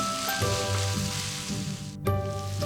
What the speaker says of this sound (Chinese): 下海带丝、花花菜和鸡肉丝，加入盐、13香、蚝油、翻炒至熟透